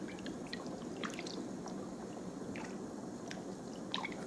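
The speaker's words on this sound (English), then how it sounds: "The water shifts as I move and draws patterns on the surface like wind in tall grass." Bath water sloshes and laps softly as someone shifts in a tub. The close, quiet, wet squishes and drips come irregularly against a low background.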